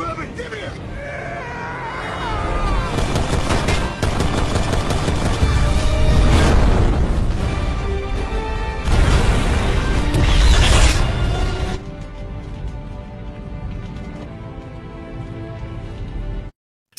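Action-film battle noise with rapid gunfire and a big blast bringing down a helicopter, loud dense booms and crashes over a music score, then fading to quieter music.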